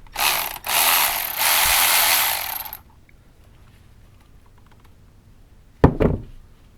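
Fast metallic ratcheting of a wrench working bolts on a John Deere Model B two-cylinder tractor, a dense close burst lasting a few seconds, then quiet and a single sharp clank near the end.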